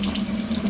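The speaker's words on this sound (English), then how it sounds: "And we'll use this hose to fill it up." Water from a hose pours steadily into a bucket during dog kennel cleaning, a close, even rushing splash that holds without a break for under a second.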